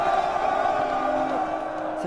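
A massed war cry from an army of 40,000 soldiers at the walls of Jericho, heard as a sustained, loud roar of many voices bellowing together in a steady, droning shout.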